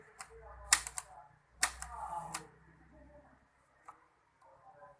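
Manual typewriter keys strike in irregular clusters of clacks, close and crisp, with quiet pauses between bursts and faint background murmur.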